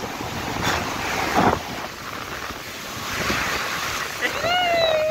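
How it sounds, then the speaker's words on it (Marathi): Big ocean waves surge and crash on Bhuigaon beach in Vasai, with a loud, continuous roar that swells in pulses under heavy wind noise and distant voices. "असल्या मोठ्या मोठ्या लाटा येतात."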